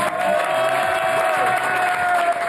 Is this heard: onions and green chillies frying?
no